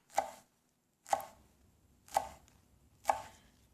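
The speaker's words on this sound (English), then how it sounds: "Chop. Allow the sound of the chop." A knife chops through rolled leaves on a cutting board for chiffonade, four crisp, evenly spaced strikes about a second apart, close and quiet with no voices.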